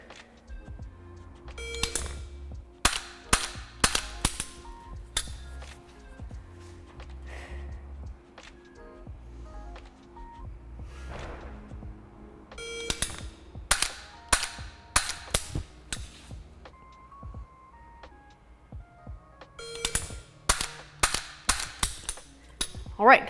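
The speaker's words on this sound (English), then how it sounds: "I'm just going to fire 1 shot on each of the 3 targets" Sig MCX rifle fired in single shots at several targets, sharp distinct reports in small groups with pauses between strings, crisp and fairly close, with faint mechanical clicks in between.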